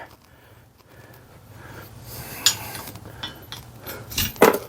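A metal part drops onto the painted body of a Polaris Slingshot during a Baker luggage rack install, making a couple of sharp, bright clinks near the end over a quiet background.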